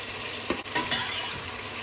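Onions and chopped tomatoes frying in a pot are stirred, giving a few short scraping clinks of a utensil over a soft, steady sizzle.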